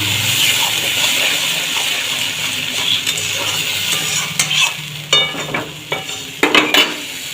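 Ground spice paste, including green chilli paste, goes into hot oil in a pan for egg curry, giving a steady sizzle with stirring and scraping that grows into sharper bursts toward the end.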